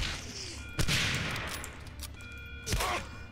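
Gunfire in the Medal of Honor Allied Assault video game: two sharp shots about two seconds apart, each ringing out over a steady rumbling battlefield background with no talk.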